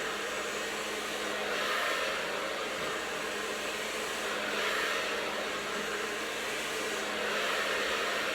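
A hair dryer roars steadily, close by, as it blow-dries long hair for moderate volume and flips up the ends. The airflow swells and dips slightly as the dryer moves, and no one talks over it.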